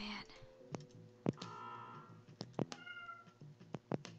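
Cartoonish cat meows from the video game Lol Cat Escape, several short separate calls mixed with clicky game effects and sharp taps, fairly quiet.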